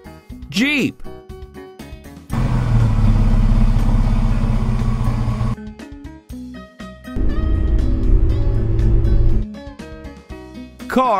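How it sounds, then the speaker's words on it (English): A jeep engine rumbles in two loud sustained stretches with a gap between them, set amid light background music and brief voice-like sounds. "Jeep."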